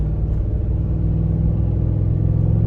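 Low engine drone from a Ford 7.3 gas truck pulling more than 18,000 lbs under gentle acceleration, a steady close rumble with a faintly rising tone through the short stretch.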